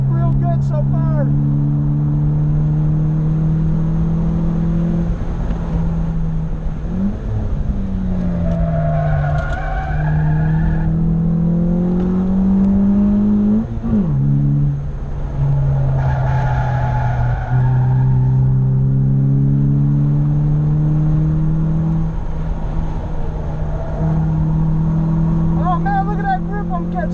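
A Honda Accord sedan driven hard on a race track, its engine loud and close, pitch climbing through the revs then dropping at each shift, over and over, with tyre squeal between.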